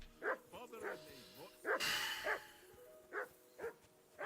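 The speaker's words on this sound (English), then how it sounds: "I assume you can hear that damn dog of yours bark." Dog barking in the medieval role-playing game Kingdom Come: Deliverance 2, a run of sharp, close barks and yips in irregular bursts, mixed in with speech.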